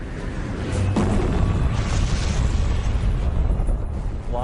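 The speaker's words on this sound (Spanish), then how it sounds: "La lava sale a la superficie y entra en erupción con una explosión" A volcanic eruption as lava bursts out in an explosion, heard as a loud, sustained roaring rumble with a sharp crack about a second in, the dense noise filling the whole stretch.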